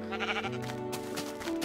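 Sheep bleating in Minecraft, a couple of short wavering bleats, fairly close and clear over a soft background tone.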